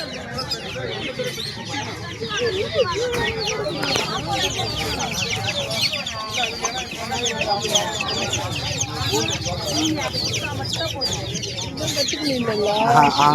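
Many chickens cluck continuously and loudly close by at Pallavaram market in Chennai, with people talking over the busy, crowded flock.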